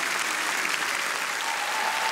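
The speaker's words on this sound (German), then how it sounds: "Man kann nur im Applaus gehen." Dense, steady applause from the audience at the German Comedy Award lifetime achievement ceremony for Thomas Hermanns, a continuous wash of clapping with no voices over it.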